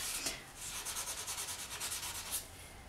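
Close, soft rhythmic rubbing of sandpaper over small polymer clay pieces, a quick series of back-and-forth strokes at low volume with no voices.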